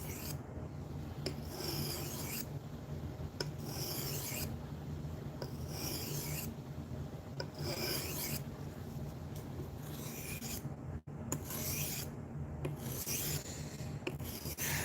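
A blade edge is sharpened on a 400 grit whetstone in steady, rhythmic back-and-forth scraping strokes, close up and at moderate volume.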